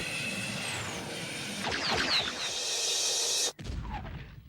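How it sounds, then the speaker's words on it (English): A blast from a played movie excerpt: a loud burst of mixed noise with debris-like crackle swells midway, then cuts off abruptly and is followed by quieter rumbling and scattered sounds. "Final explosion."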